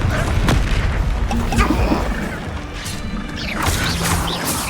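Confringo spell explosions in the Hogwarts Legacy video game crash and boom amid a busy battle, with repeated impacts and rumbling blasts layered over game sound effects.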